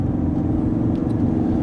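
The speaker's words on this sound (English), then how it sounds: "The exhaust adds a nice amount of sound, turns lots of heads" Supercharged 600HP Ford Mustang with a Milltek exhaust and manual gearbox accelerating, a steady, loud, deep engine rumble held close throughout without a break.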